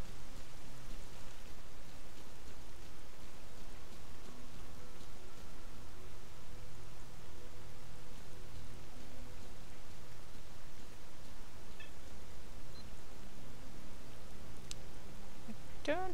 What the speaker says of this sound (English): Rain and foggy weather.